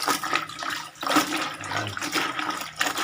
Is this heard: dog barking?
no